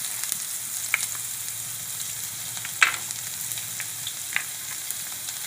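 Garlic and cumin seeds sizzle steadily in hot oil for a Gujarati dal palak dish, a soft continuous frying hiss with a few brief sharper crackles, fairly quiet and without talk.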